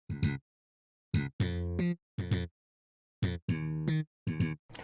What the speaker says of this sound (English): I really do feel like the slap bass is a necessity.